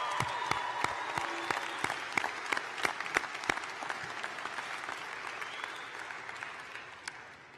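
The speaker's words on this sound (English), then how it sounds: "one more round of applause for that" A crowd at a high school graduation ceremony applauds with loud, distinct claps up close over a dense background of clapping that gradually thins and fades, a few last claps standing out.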